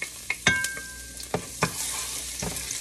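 Garlic sizzles in hot olive oil in a pan, a steady bright frying hiss broken by several sharp clinks and scrapes of a utensil stirring against the pan, close up with no talking.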